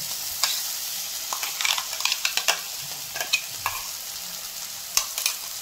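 Ground spice paste dropped into hot oil for a mustard-flower fish curry, a close, even frying hiss dotted with crackles and spatters throughout.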